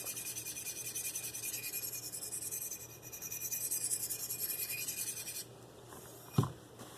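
Steady rasping strokes as a Marttiini Lynx knife with a scandi grind is sharpened, a continuous scraping that runs for several seconds at close range, then stops, followed by a single short knock.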